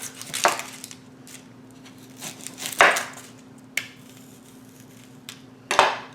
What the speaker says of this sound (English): we're going to cut the ends off.